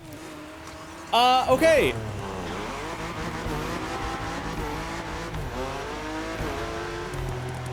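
A BMW M4 Competition in The Crew Motorfest starts with a burst of tire squeal and revving, then settles into a steady engine drone while a voice speaks briefly.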